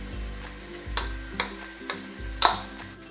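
Minced seitan tipped into a pan of sizzling soffritto for a vegetarian lasagna ragù, a steady frying crackle with a few sharp scrapes and taps of a spoon stirring it in.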